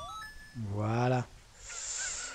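A cucco chicken in Zelda: Ocarina of Time lets out a single honking, squawking cry. It comes in the middle of a quiet scene with a faint chime, and no one talks over it.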